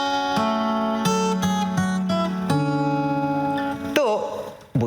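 Acoustic guitar played through an effects unit, a run of clear plucked notes and chords with a shimmering processed sustain, moderately loud and close, ending in a swelling smeared tail.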